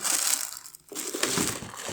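Plastic bag packaging around a newly unpacked charger crinkles and crushes loudly and continuously at close range, with a brief pause midway before the rustling resumes.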